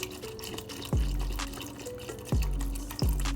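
Beef broth poured into a pot roast in a home kitchen, a close series of liquid splashes and drips with a few heavier glugs landing in the pot, no talking.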